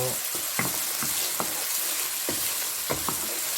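Beef sizzling and frying in a pot for achari gosht, a steady hiss with sharp stirring scrapes at irregular intervals, close and fairly loud throughout.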